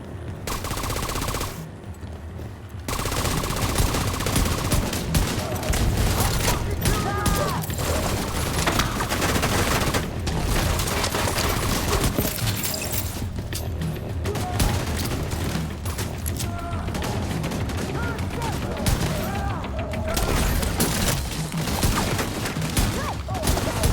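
Sustained gunfire in The Division 2, dense rapid automatic bursts rattling almost continuously after a brief lull at the start, loud and close with occasional heavier booms mixed in.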